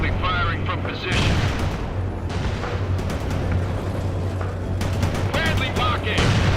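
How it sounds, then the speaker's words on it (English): A Bradley armored vehicle fires in a strategy video game: loud, rapid bursts of cannon and gunfire booming over continuous battle noise, with voices speaking in between. "Bradley firing from position."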